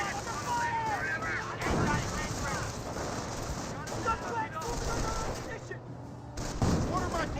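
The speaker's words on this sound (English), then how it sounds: "Mortar got a great hit there, wiping out both of the squads." In the Company of Heroes battle game, mortar shells burst amid ongoing gunfire: two heavy booms stand out against crackling small-arms fire, with a commentator talking over the whole battle.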